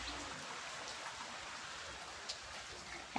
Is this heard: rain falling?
yes